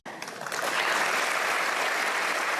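A crowd breaks into applause that swells within half a second into a dense, even roar of clapping and holds steady, loud and continuous.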